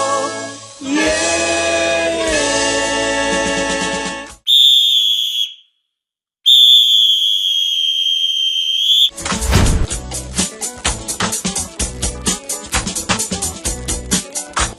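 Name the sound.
referee's final whistle at a football match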